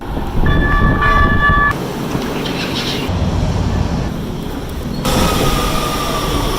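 A train rumbles along with a clattering rhythm, and a horn toots briefly at the start and again later, fairly loud and close.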